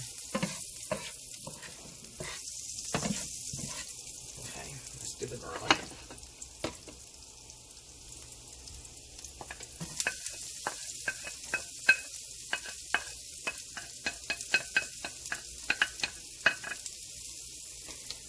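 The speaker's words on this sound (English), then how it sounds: "Let me get my garlic in." Garlic sizzling in a frying pan gives a soft, steady hiss, broken by light clinks and scrapes as it is stirred at intervals, all fairly quiet and close.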